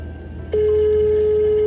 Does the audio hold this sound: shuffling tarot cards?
no